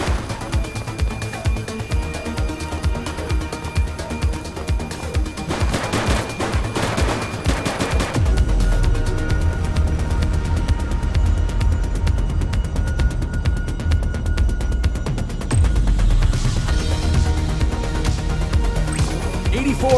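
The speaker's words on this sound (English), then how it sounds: "Shots fired!" Gunfire during a police shootout in the video game The Precinct, with repeated sharp shots in rapid bursts over a busy, dense background and occasional voices.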